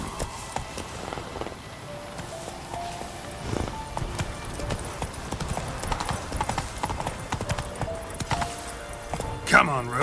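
Hoofbeats of a galloping horse in The Witcher 3 keep up a steady clip-clop rhythm throughout, with a voice speaking over the top.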